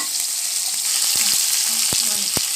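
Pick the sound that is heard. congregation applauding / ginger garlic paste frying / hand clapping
ginger garlic paste frying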